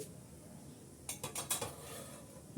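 A lid comes off a pan of noodle barfi after baking on the stove: a quick burst of several faint metallic clinks and clatters breaks a quiet background, then fades back to near silence.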